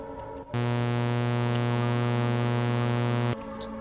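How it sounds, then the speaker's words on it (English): A ramp (sawtooth) wave from a Ruby-coded wavetable synthesizer sounds as a buzzy, harmonic-rich steady tone. It starts suddenly, holds evenly for about three seconds, then stops. "And of course we have our ramp wave."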